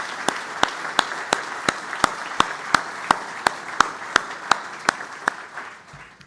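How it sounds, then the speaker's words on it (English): A small audience applauds at the launch of a medicines manufacturing innovation centre, giving a steady, even round of clapping with distinct regular claps up close that fades at the end. "I'd like us all to please give them a huge round of applause"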